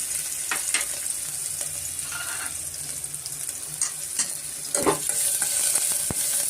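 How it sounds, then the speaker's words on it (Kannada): Chopped onions frying in oil in a pan for a hesaru kalu sambar, a steady soft sizzle with occasional scrapes and clicks of a stirring spoon, close by and moderate in level, with no talking. "ಈರುಳ್ಳಿನ ಅದನ್ನು ಸ್ವಲ್ಪ ಸೇರಿಸ್ಕೊಂಡು ನಾವು ಫ್ರೈ ಮಾಡ್ಕೊಬೇಕಾಗತ್ತೆ"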